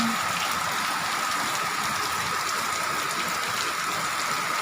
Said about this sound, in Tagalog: Medyo malakas na naman ang ulan.